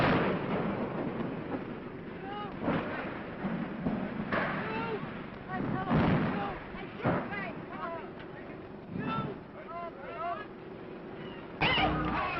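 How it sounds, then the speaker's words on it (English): Hindenburg airship fire and crash in a 1937 newsreel: muffled rumbling bursts and crackling blasts come in waves across the scene, with shouting voices and urgent talk mixed through the old, band-limited recording. "you are about to see the pictures he got when the ship exploded"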